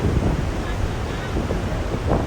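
Sea waves wash continuously onto a beach, a steady loud roar of surf mixed with wind buffeting the microphone, with no pauses throughout.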